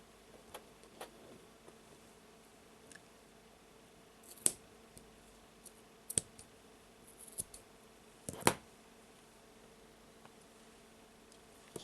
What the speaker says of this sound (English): So let's put the knots next to each other and let's cut the cord.